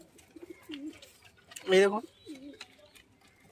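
Pigeons coo at a home loft, a few soft low coos followed by one louder, nearer call, with someone speaking briefly over the birds.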